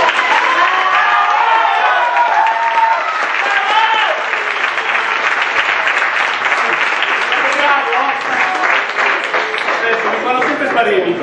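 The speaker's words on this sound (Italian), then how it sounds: "applauso." Audience applause with some cheering, a loud, dense wash of clapping that holds throughout, mixed with crowd voices and a few rising shouts.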